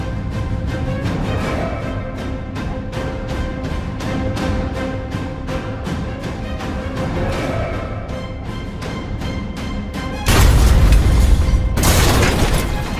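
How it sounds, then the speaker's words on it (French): Depth charges burst around a diving submarine in a rapid string of heavy booms, then a loud roaring rumble near the end, with dense continuous noise throughout. "Le sous-marin s'ébranle sous les explosions"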